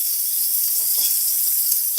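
Eggplant (baingan) cooks in a pan over low heat, giving off a steady, soft sizzle with light stirring scrapes and a brief clatter at the very end.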